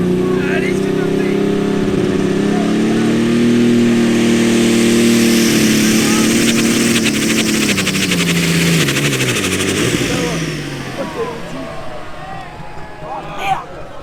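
A Case tractor rated over 1800 hp roars loudly up close, its engine note holding steady and then dropping as it winds down toward the end, with a brief knock near the finish.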